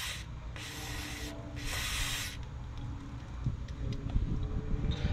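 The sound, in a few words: spraying WD-40 on a nut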